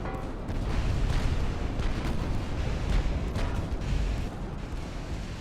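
Warship guns firing during a pre-dreadnought naval battle in Ultimate Admiral: Dreadnoughts, heard as a dense, continuous barrage of heavy booms and blasts that rumbles loudly for several seconds.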